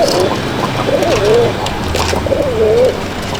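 Madrasi pigeons coo in a loft, two clear rolling coos rising and falling about a second apart, close and fairly loud over a light background murmur.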